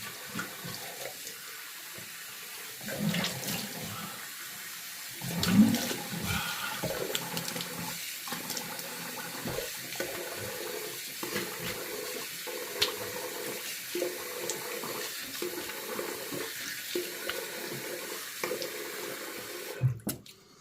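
Tap water runs steadily and fairly loudly for about twenty seconds, rinsing off after a close razor shave, with small splashes and shifts in the flow and no talking.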